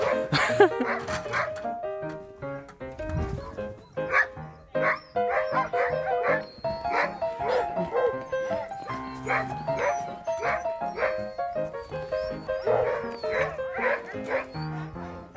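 Excited sled dogs yip, bark and whimper in quick, overlapping bursts before a dog-sled departure in Svalbard. The chorus is moderately loud and continues throughout, with voices faintly mixed in.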